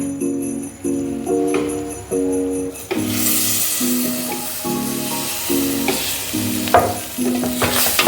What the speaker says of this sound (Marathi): आता हे थोडंसं हलवून घ्यायचं आहे, म्हणजे छान मोकळं पीठ मिळते आपल्याला।